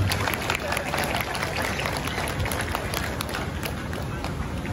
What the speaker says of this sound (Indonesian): Tepuk tangan dulu ini datang.